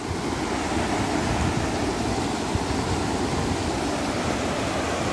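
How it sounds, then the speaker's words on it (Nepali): A small waterfall of clear water beside a trail near Ghandruk gives a steady, even rush of falling water. It sounds close and fills the whole stretch without a break. "अब यहाँ एउटा बाटोमा झर्ना भेट्यो हामीले धेरै राम्रो यस्तो सफा पानी"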